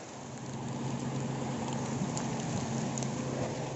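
Steady heavy rain from Typhoon Ulysses in San Mateo, Rizal, pours down as a dense, continuous hiss on surfaces, even and unbroken, with no voices.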